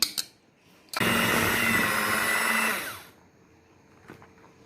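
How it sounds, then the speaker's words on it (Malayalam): A kitchen blender whirs loudly and steadily for about two seconds, mixing chocolate chip cookie batter for no-oven cookies, then winds down and stops, with a few small knocks before and after. "ഇതിനിപ്പോൾ നമ്മൾ ലാസ്റ്റ് 1/3 കൂടെ ഇട്ട് കൊടുത്തിട്ട് സൂപ്പറായിട്ടൊന്ന് ബ്ലെൻഡ് ചെയ്തെടുക്കാം"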